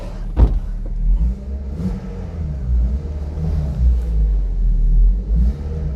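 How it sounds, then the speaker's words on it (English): A well-worn Toyota MR2 ZZW30 with a loose, noisy belt is revved from idle in a few low, rumbling surges, loud and close, with a sharp click near the start. "Let's rev it up a little bit."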